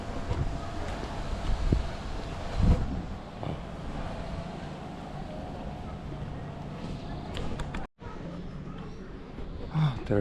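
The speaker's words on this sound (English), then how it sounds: "There is a wind here." Steady wind noise buffets the microphone on a hot day in the German city of Heilbronn, a broad continuous rush with a few gusts and a brief dropout, no talk.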